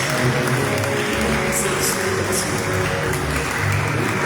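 Church congregation applauding during a Sunday morning youth service at a Haitian church of God, a dense continuous clapping wash mixed with music and crowd noise throughout.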